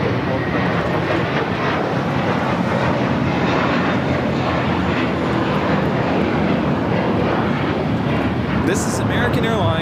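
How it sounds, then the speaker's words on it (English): An American Airlines A321 takes off at LAX, bound for Dallas-Fort Worth, its jet engines roaring loud and steady throughout with a broad rushing noise. A voice talks over the roar. "This is American Airlines 2024, taking off to Dallas-Fort Worth on the A321"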